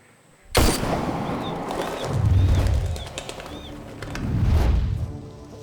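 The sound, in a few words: gunshot sound effect in TV drama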